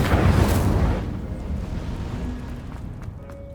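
Incendio fire spell cast in Hogwarts Legacy, a loud whooshing burst of flame at the start that quickly fades into a lingering rumbling roar, with a few small clicks near the end.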